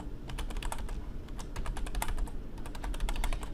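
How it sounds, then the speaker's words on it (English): Quick, irregular clicking keystrokes as an email login is typed on a computer keyboard, close and moderately loud, with short pauses between bursts and no voices. "And then assuming I type it correctly, it will ask me to put in my password."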